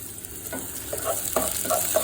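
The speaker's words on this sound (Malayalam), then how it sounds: "ഇഞ്ചി വെളുത്തുള്ളി തമിഴര് പറഞ്ഞ പൂണ്ടി എന്നാട്ടോ പറയുന്നത് പൂണ്ടി പൂണ്ടി എല്ലാം കൂടി ഇട്ട് വഴറ്റിയെടുക്കണം" Ginger and garlic sauté in a hot pan for mango pulissery, a soft steady sizzle broken by a few scraping stirs, close and quiet with no talking.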